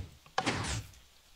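A Minecraft piston door in the video game gives a single short mechanical whoosh-and-thud as it moves, close and fairly loud, followed by a faint click at the end.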